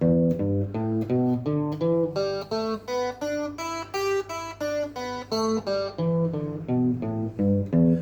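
A slow scale of single plucked guitar notes, evenly spaced, climbing and then descending, played alone and clearly.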